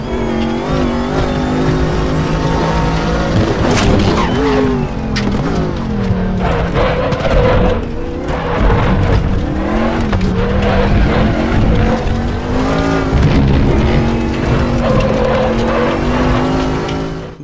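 A Chevrolet Dekon Monza race car in the RaceRoom game at Zolder roars steadily throughout, engine revving and shifting while tires squeal and skid through slides, loud and continuous with occasional excited talk over it.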